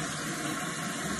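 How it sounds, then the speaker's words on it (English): Steady, close rush of water running from a tap, continuous and even throughout with no voices. "turn on the water"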